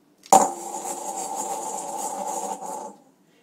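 Dry ice giving off carbon dioxide gas, a sudden contact click followed by a steady hissing, squealing whine lasting a few seconds before cutting off, close and fairly quiet, no voices.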